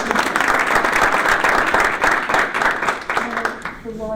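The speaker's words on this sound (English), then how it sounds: "I have to say a round of applause for our moderator" Crowd applause for a moderator at a library budget and candidates forum, full and sustained at first, then thinning and tapering off as a voice starts up near the end.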